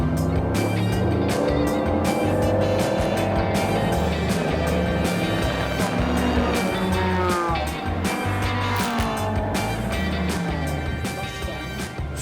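Shelby Cobra racing cars with V8 Ford engines at Spa, a loud, continuous low engine roar with rising and falling revs as several cars pass close by in a classic race, sustained throughout.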